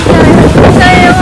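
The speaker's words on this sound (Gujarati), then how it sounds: "પવન સારો આવે ને ભાઈ" Strong wind blowing at a seaside temple, heavy rumbling buffets against the microphone for a moment.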